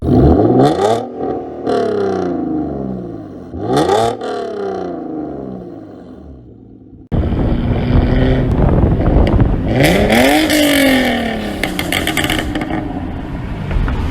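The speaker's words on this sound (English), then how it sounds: "Exhaust wise, I'm running ARC test pipes, so no secondary cats, Borla resonators, and no muffler." A Hyundai Genesis Coupe 3.8 V6 with ARC test pipes, no secondary cats, Borla resonators and no muffler revs loudly: two sharp blips at first, then a sustained roaring run-up that rises in pitch, close and alone.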